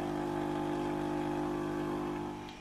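A Philips steam generator station heats its water with a steady, low humming drone close by, fading slightly at the end of a short stretch.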